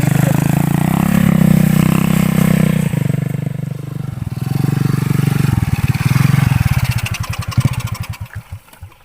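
New motorcycle engine running close and loud, a steady idle that rises in revs, then sputters and slows into uneven popping firing pulses as it dies, with no talking.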